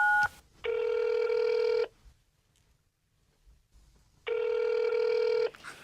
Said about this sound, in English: Let me just make this phone call real quick.